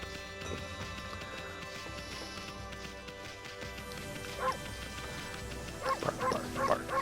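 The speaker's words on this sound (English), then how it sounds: "Bark, bark, bark, bark, bark." A dog barks in the video game Okami over a steady hum of game music and ambience, the yips growing louder and more clustered toward the end.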